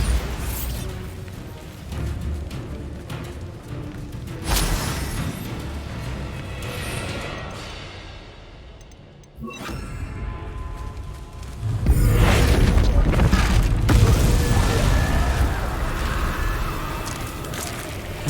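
Bombarda blasting spells in Hogwarts Legacy go off as heavy, booming explosions amid dense game combat noise, with a large crashing burst near the end and sustained loud rumble.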